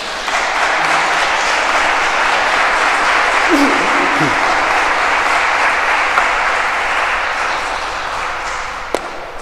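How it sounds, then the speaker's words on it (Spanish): A conference audience in a parish hall applauds steadily to welcome a Franciscan friar to the lectern, a sustained wash of clapping that slowly tapers, with a few thumps and taps along the way. "Recibamos al Padre Guillermo con un aplauso"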